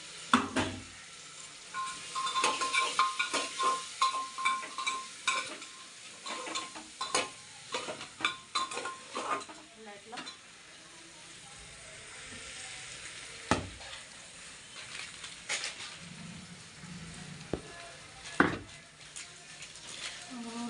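Tempered rice with turmeric (phodniche bhaat) sizzles in a pan while a spoon scrapes and knocks in busy bursts early on, then the frying hiss carries on more quietly with occasional sharp taps.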